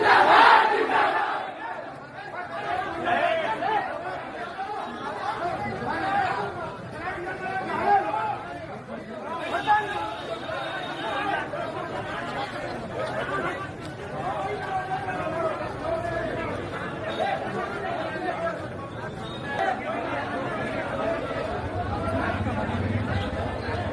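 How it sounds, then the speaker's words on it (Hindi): A large crowd chanting slogans for Mukhtar Ansari, with dense, loud overlapping voices and rhythmic shouts sustained throughout amid general hubbub. "मुख्तार अंसारी के लिए कैसे नारे लगे"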